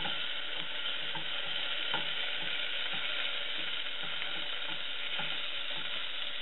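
Garam masala, garlic and ginger fry in a pan with a steady, bright sizzle, and small scraping ticks from stirring come at irregular moments throughout.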